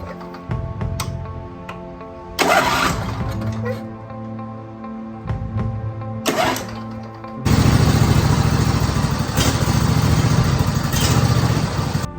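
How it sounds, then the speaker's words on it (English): A Cub Cadet riding tractor engine ticks and cranks in short bursts, then catches and settles into a loud, steady running roar close by. "Well, the tractor starts now, and it appears to be the solenoid."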